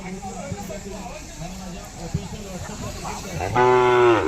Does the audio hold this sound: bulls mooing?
yes